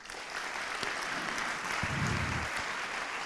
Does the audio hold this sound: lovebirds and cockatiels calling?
no